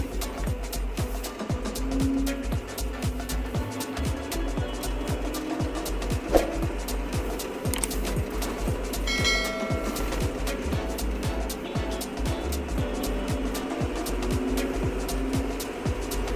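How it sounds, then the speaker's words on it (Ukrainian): A John Deere 6420 S tractor driving along, its steady engine drone running continuously with rattling, clicking mechanical noise and no talk over it. "рухається трактор"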